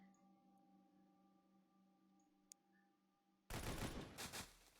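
In Xenonauts 2, soldiers fire a sudden loud burst of automatic gunfire after a quiet, steady hum. The rapid shots run over about a second with a couple of trailing bangs.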